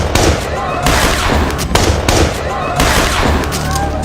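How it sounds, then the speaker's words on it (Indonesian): A film scene where a robber shoots a police officer: several sharp, loud gunshots burst at roughly regular intervals over a dense, noisy soundtrack. "Solomon terpaksa menembak polisi itu tapi tidak di bagian vitalnya"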